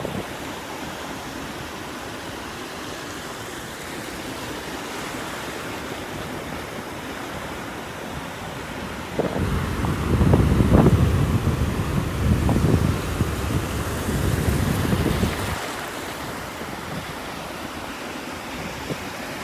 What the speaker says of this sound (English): The wind's blowing right at us from it.